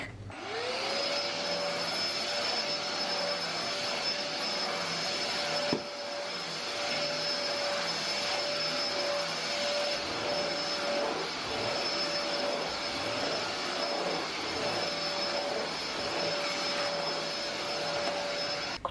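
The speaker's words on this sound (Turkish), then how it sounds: "Şöyle sadece süpürme olayı kaldı. Salonda bir süpüreceğim." A vacuum cleaner runs in a living room, starting up into a loud, steady high whine and roar that continues for the whole stretch with shifting tones as it moves.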